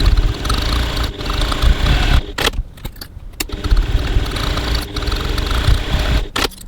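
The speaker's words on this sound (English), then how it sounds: "So I'm going to stitch the two short ends" A sewing machine stitches the two short ends of a fabric handbag piece with a 1 cm seam and a 2.4 stitch length, a steady close mechanical whir running in bursts separated by brief pauses.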